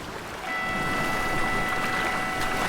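Ocean surf at the Pipeline surfing contest on Oahu's North Shore, a broad steady wash of breaking wave and white water rising after a brief quieter start, heard from shore with a faint tonal hum in the background.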